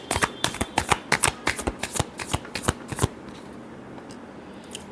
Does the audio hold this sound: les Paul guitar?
no